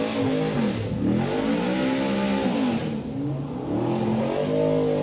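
A Ford Mustang drift car's engine roars continuously on throttle at a competition qualifying run in Texas, loud and sustained with rising and falling revs and a short dip midway, and no talk over it.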